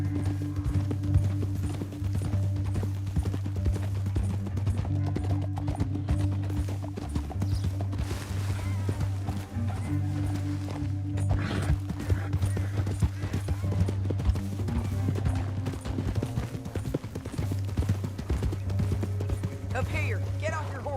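Horse hooves clip-clop steadily through the whole stretch in Red Dead Redemption II, a continuous rhythmic patter under a loud, sustained musical drone and score, with voices speaking over it at times.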